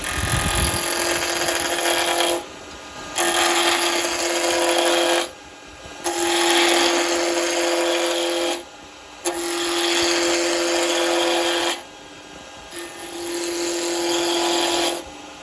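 Wood lathe roughing down a spindle with carbide turning tools while making a Christmas tree, giving loud whining, hissing cuts in four long bursts separated by short pauses.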